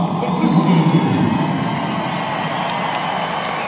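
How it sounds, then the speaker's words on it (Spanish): Crowd at a lucha libre wrestling event applauding and cheering for a masked wrestler, with loud mixed clapping, whoops and voices blending into a steady roar throughout. "El aplauso para Persepolis."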